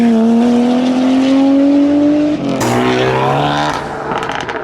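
A 4-door Nissan Skyline R34 pulls out of the Japfest car park, its engine note climbing steadily as it accelerates, then shifting and revving again close by with a loud, continuous roar.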